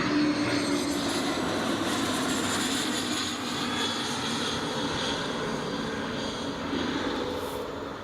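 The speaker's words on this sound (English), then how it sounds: "Here comes the German registered Cessna citation." Loud, steady jet roar of a German-registered Cessna Citation coming in to land at Newcastle International Airport runway 25, a continuous rushing whine with no pauses.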